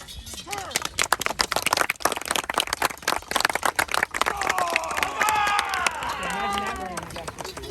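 A crowd claps in a rapid burst of sharp, scattered hand claps, with cheering voices and whoops rising over the applause.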